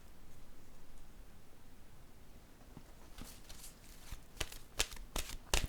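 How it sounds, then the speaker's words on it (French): Oracle cards are shuffled by hand before one is drawn: quiet room noise at first, then a string of close, sharp card flicks and snaps growing busier toward the end, with no talking. "je vais piger une carte de mon oracle de l'âme intuitive"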